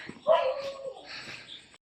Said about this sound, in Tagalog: May tumatahol.